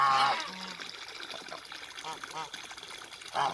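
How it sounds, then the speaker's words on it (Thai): Geese splash water around in a cement mixing tub. Light trickling and sloshing is heard up close, broken by short honking calls from the birds. "เล่นน้ำทีน้ำกระจาย"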